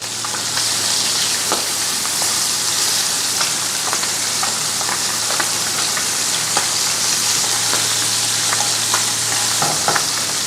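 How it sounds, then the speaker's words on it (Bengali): Small puti fish fry in oil over high heat, a dense continuous sizzle packed with sharp spitting pops and crackles, loud and close throughout with nobody speaking. "মাছ ভাজা সবসময় হাই হিট"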